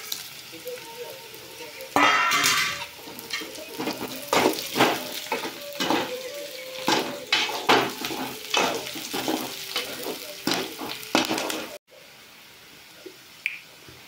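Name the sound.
onions and chili frying in a pan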